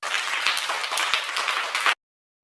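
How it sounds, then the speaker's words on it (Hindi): A small audience claps briskly for a magician's vanishing trick, close and fairly loud for about two seconds before the sound cuts off abruptly. "ये देख लोगों ने ताली बजाई।"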